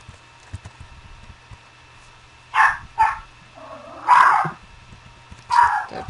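A dog in the Minecraft video game barks in four short separate bursts over quiet game background, loud and near, with irregular gaps between barks.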